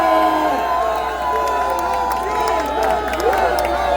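A large crowd at a campaign rally in Gwangmyeong, South Korea, applauding and cheering, a steady dense roar of clapping and shouts with higher whoops and children's voices poking through.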